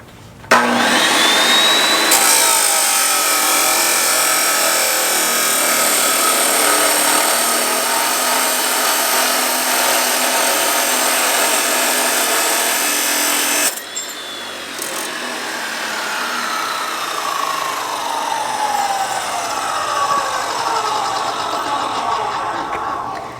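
Abrasive cut-off blade grinding through steel, a loud continuous high whine for about thirteen seconds that then drops to a slightly softer, steady roar with a descending pitch as the blade spins down, no speech.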